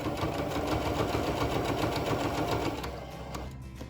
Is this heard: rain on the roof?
no